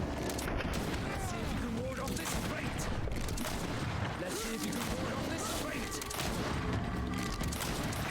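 Gunfire in the video game GreedFall, a steady dense barrage of shots and clattering mechanisms filling the whole stretch, with a voice talking over it.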